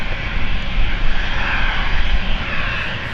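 At London City Airport, an airliner bound for Bergerac makes a loud, steady engine rumble with a broad roar that swells slightly, close by and with no voices over it.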